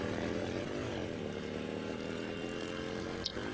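Motorcycle engine droning steadily as the bike rides off, a continuous buzzing roar at moderate distance with a brief click near the end.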